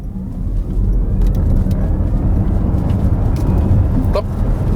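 A Jaguar I-PACE electric car accelerates hard from a standstill, a loud continuous rumble of road and motor noise throughout.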